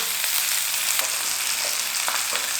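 Flipped charred cabbage sizzles in a hot pan, a continuous close frying hiss with faint crackles and light stirring scrapes.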